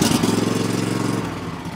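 A pull-start riding lawn mower with a 48 inch deck catches at half throttle with choke, its engine chugging loudly and rhythmically up close, then settling slightly as it runs.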